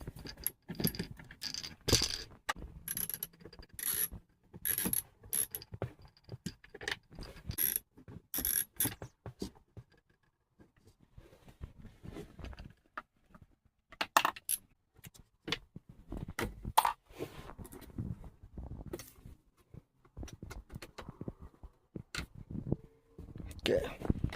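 Screws are backed out of a car dashboard to free a broken radio, giving small metallic clicks, ticks and rattles in scattered bursts up close, with quiet gaps and occasional soft talk.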